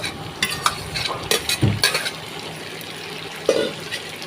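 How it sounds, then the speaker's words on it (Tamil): Chopped tomatoes are added to a hot pan and stirred while sautéing for chicken rasam. Spoon scrapes and clinks sound over a soft, close sizzle, with brief louder bursts and no talking. "அதுக்கு அளவான தக்காளி ஒரு ரெண்டு தக்காளியை வெட்டி வச்சுருக்கேன் தக்காளி போட்டுக்கோங்க"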